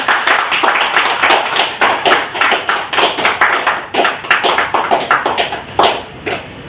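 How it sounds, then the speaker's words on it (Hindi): An audience at a welcoming ceremony in Umargaon claps in a steady rhythm, loud and close, with a few brief pauses in the beat and no talk over it. "ताली बजनी चाहिए एक बार।"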